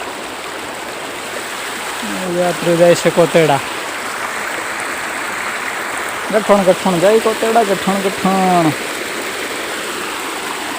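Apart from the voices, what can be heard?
flowing stream water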